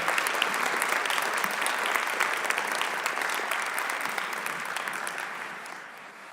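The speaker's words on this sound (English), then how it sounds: "Let's give one more round of applause to all these wonderful students for their hard work." An audience at a school board meeting gives a round of applause for students, many hands clapping steadily and filling the room before tapering off gradually.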